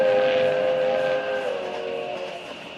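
Radio-drama effect of a train passing as its whistle blows: a loud sustained multi-tone whistle over rolling rail noise that slowly fades as it moves away, with no voices.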